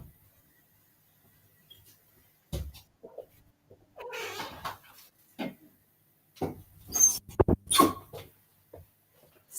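A cat meows to be let outside, several short scattered meows and a few rubbing, scuffing noises against quiet, close but soft, with no talking.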